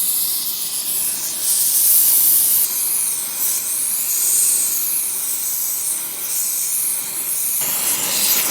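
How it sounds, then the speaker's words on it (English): A torch heats a crane track pad red hot, giving a loud, continuous roaring hiss that swells and eases slightly in strength over several seconds. "He's just heating that area up, getting it nice and red so that he can bend it without breaking it."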